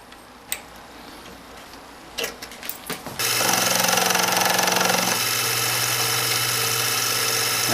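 A metal lathe trimming a spring plunger part starts up partway through, becoming a loud, steady machining whine and hum after a few faint ticks and clicks.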